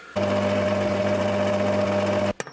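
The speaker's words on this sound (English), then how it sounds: "So the first thing is to use my centre drill, which is just really thick so it can't wobble anywhere." A small motorized centre drill in a workshop runs at a steady high whine while drilling metal to prepare an M4 hole. The hum starts abruptly, holds evenly for about two seconds, then cuts off with a brief knock.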